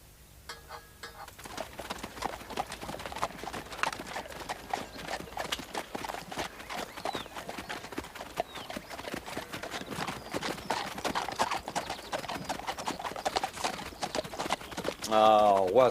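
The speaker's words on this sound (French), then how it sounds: "Ah, Watson, mon cheval boite." A limping horse's hooves clip-clop in an uneven, continuous rhythm, close and fairly loud, with a brief neigh-like sound at the end and no speech.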